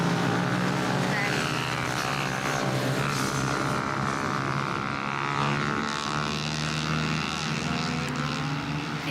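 Youth motorcycles ridden around at an ACU licence training session for under-18 riders, a continuous engine drone with rising and falling pitch as bikes pass, moderately distant, with a voice talking over it.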